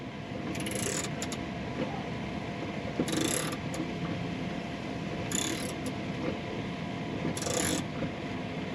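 A hand crank turns during a pickup truck bed install, giving a faint mechanical ratcheting with bursts of clicking at regular intervals, steady and without voices.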